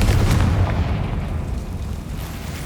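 A Confringo spell in Hogwarts Legacy explodes with a loud, deep boom that rumbles and slowly fades over a couple of seconds.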